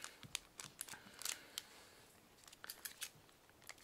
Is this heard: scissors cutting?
yes